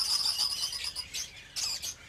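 Budgies in a breeding cage give bursts of shrill, close chirps and twitters in quick clusters separated by short pauses, with no voices.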